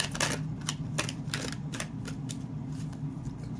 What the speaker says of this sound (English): Usually when cards stick together like this, somebody doesn't want to talk.